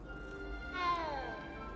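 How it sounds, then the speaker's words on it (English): A single short meow from a cat in Hogwarts Legacy, a thin rising-and-falling cry heard close, over a low steady background hum. "There's a kitty cat."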